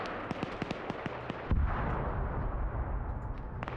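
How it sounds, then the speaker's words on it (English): Gunfire crackles repeatedly in a military video game battle, sharp shots at a distance, followed by a low rumbling blast that rolls on and lingers beneath the later shots. "And I just heard a distant explosion."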